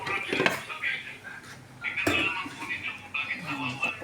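A metal lid clatters onto a cooking pot twice, sharp nearby clanks amid kitchen noise while a person talks over it.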